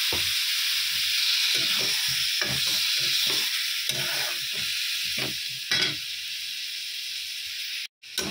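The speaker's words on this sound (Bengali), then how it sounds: "এবার জল দিয়ে দিচ্ছি পরিমাণ মতন, কষানোর জন্য জল দিয়ে দিলাম।" Water poured into ground spices frying in a pan, including coriander and cumin powder, producing a strong steady hiss and sizzle with repeated spoon stirring scrapes throughout, loud and close, without talk.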